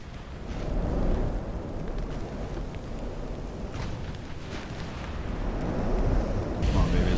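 Heavy naval gunfire and 11-inch shell hits in the warship battle game Ultimate Admiral: Dreadnoughts, a dense, continuous low rumble of booms and blasts that swells steadily louder toward the end, with no talking.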